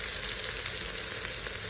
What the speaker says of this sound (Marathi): हे चांगलं तेलात परतून घ्यायचं